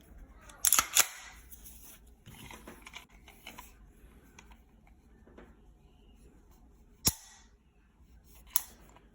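A CZ Shadow 2 pistol trigger is pulled against a trigger pull gauge, giving a few sharp, close metallic clicks and snaps, spaced seconds apart, with quiet handling noises in between.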